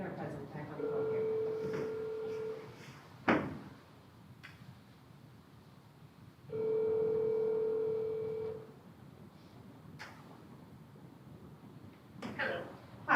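A phone line heard over a speakerphone at a school board meeting gives two long, steady ringback tones a few seconds apart, with scattered clicks and handling noises around them in a quiet room.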